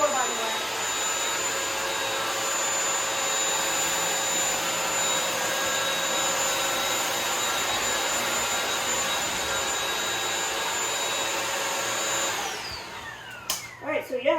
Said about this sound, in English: now for the Bissell Crosswave